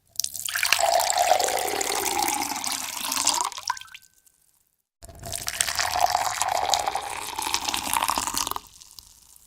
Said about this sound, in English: There is water being poured into a glass.